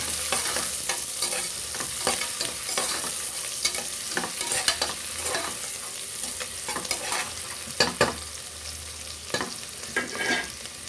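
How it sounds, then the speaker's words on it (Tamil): Chopped onions sautéing in hot oil for a rohu fish curry make a loud, continuous sizzle, broken by repeated scraping stirs of a spatula in the pan. No one speaks. "ஸோ நம்ம இது வந்து லைட் ப்ரௌன் ஆகிற வரைக்கும் நம்ம இந்த வெங்காயத்தை வதக்கிடலாம்"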